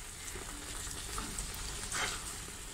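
Tulum cheese heating in a non-stick pan gives a soft, continuous sizzle with faint crackles and a slight swell near the end.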